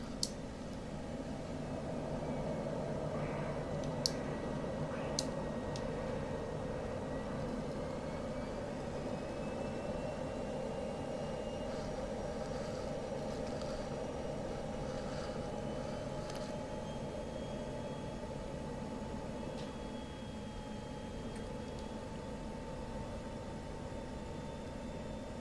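An F-16 jet in the DCS flight simulator passes in front, a steady broadband engine roar with a faint rising whine that holds evenly for the whole stretch without any clear peak.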